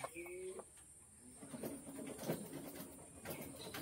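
Pigeons being handled at a bird sale, soft cooing and brief wing fluttering close by, with a faint steady hum and scattered rustling underneath.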